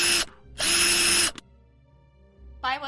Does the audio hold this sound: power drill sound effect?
yes